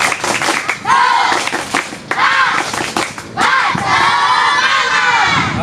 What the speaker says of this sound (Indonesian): Yang kompak tepuk semangat.